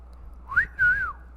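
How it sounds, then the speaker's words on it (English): A single two-note wolf whistle, a short rising note followed by a longer falling one, loud and close against a quiet low hum, with no talk. "Can you wolf whistle?"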